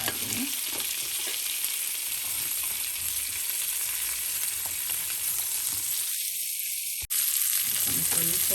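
Asparagus ends and a few mushroom pieces fry in a pan, giving a steady, close, even sizzle that runs unbroken throughout, with a brief dip near the end, and no talking.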